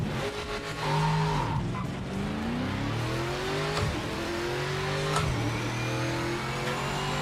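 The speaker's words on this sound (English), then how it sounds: "Oh, this car sounds good." A race car in the Project Motor Racing game revs and shifts through gears, the engine note climbing and dropping in repeated sweeps with brief tire squeal, steady and prominent throughout.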